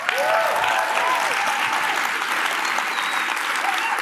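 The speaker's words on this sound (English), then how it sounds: "Can we give Alyssa one more round of applause?" A large conference audience at a circular-economy keynote gives a sustained, dense round of applause, loud and steady throughout with a faint voice above the clapping.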